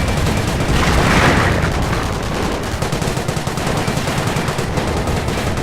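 Bren light machine gun firing in a World War II strategy game battle, loud sustained bursts of rapid gunfire with booming impacts layered over a dense wall of combat noise.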